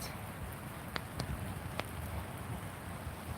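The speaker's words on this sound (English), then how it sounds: "the sound of the rain dropping to the ground is really healing" Rain falling outdoors onto wet tree leaves and the ground, a dense steady patter with a few sharper nearby drips standing out, no voices.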